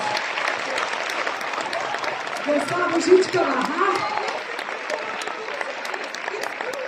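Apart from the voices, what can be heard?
audience applause at a Christmas show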